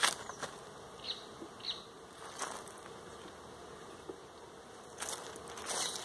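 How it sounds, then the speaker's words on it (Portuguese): Honey bees buzz steadily and faintly over four hive frames while a colony is split into a nucleus hive, with light clicks and handling noises over a soft insect hum. "Olha só como tá de abelha, cobrindo os quatro quadros"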